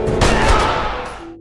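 A gunshot in an action film cracks out as a loud, sharp blast with a rumbling, echoing tail that fades over about a second.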